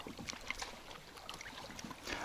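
An outboard motor drives a small boat along a river, held below full throttle. It is heard as a faint, steady wash of engine noise and water slapping, with no voices.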